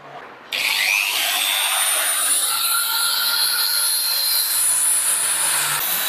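A handheld pistol-grip power polisher fitted with a flexible pad and 400-grit sandpaper, sanding a surface with a steady, loud high-pitched whine that starts abruptly and holds constant, with no talking.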